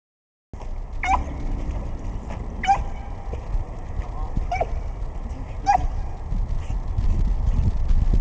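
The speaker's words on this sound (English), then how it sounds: "It's Arfing Ava, attacking the water with the cutest bark we ever heard." A small pit bull gives about four short, high yaps spaced a second or two apart while attacking water, over steady splashing water noise.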